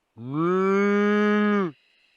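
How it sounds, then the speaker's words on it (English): A cow with her calf moos once in the field, a long, loud, steady low call of about a second and a half, heard close and clear over a quiet background. "Cow and calf."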